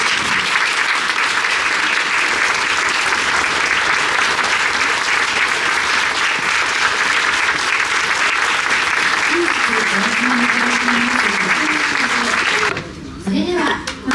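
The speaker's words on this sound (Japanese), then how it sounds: "それでは皆様どうぞ温かな拍手でお迎えください。" Warm applause from guests at a sumo stable's closing-day celebration party, a steady dense roar of clapping sustained for over twelve seconds, then fading as a voice begins to speak near the end.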